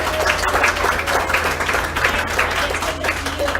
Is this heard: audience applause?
yes